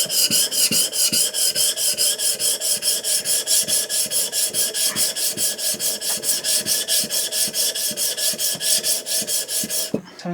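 A wooden Hong Kong style hand plane iron has its back flattened on sharpening stones lubricated with automotive window cleaner, giving a steady rhythmic rasping scrape, stroke after stroke at about four per second, close and loud with no talking.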